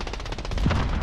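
Rapid gunfire from a Call of Duty Warzone match, a fast burst of repeated shots rattling loud and close, with a heavier thump partway through.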